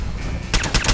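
Gunfire in the video game Fallout 4: after a quiet half-second, a burst of several loud, rapid shots cracks out in close succession.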